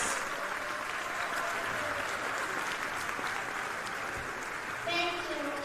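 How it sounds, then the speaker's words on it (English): Applause for the volunteers and staff at a high school basketball holiday tournament championship ceremony, a steady round of clapping from a crowd in a gym. "Please give them a round of applause."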